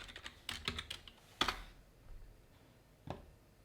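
Computer mouse clicks and keyboard taps while confirming a crypto loan repayment, a short cluster of close, crisp clicks followed by a single louder press and one more click after a pause.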